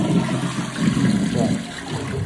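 A wall-hung toilet flushes with a steady, close rush of water that lasts about two seconds without a break.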